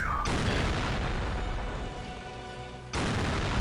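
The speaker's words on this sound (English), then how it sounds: "There's the last cannon shot" A cannon shot in a strategy video game match: a loud booming blast that rings out and decays over a couple of seconds, followed by a second abrupt burst near the end.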